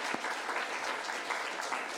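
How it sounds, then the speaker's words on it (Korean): Brief, steady applause from a church congregation, a dense wash of many hands clapping together at moderate distance. "우리 뒤에 먼저 오셨는데 박수 한번,"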